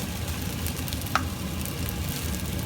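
Rice fries in oil for Pinoy-Chinese fried rice with egg while it is stirred, a steady close sizzle with one brief scrape of the utensil in the middle.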